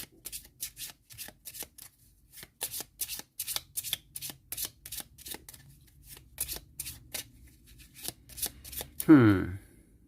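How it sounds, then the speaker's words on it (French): A deck of cards is shuffled in This War of Mine, a rapid series of crisp riffling bursts repeating in quick uneven rhythm, ending in a short swooshing flourish. "Je remélange mon paquet, là, exploration."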